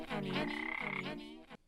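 A frog character in the video game A Somewhat Peculiar Frog lets out one long, buzzing, throaty croak lasting over a second, loud and close with no talking.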